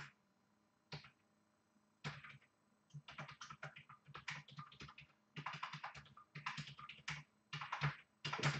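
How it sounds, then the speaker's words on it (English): Bursts of typing on a computer keyboard used while debugging gamepad input in an electronics workshop, with clustered key clicks in irregular runs and short pauses, close and fairly quiet. "This keyboard is terrible."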